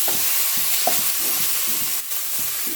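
A handful of mint leaves sautéing in a pan for a simple lunch-box rice, giving a continuous loud sizzle broken by repeated soft scraping stirs, with no voices.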